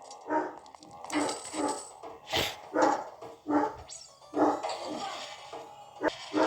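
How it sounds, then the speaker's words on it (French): A dog barks repeatedly nearby in short bursts, with some yips mixed in and a voice talking underneath. "désolé si vous entendez les aboiements"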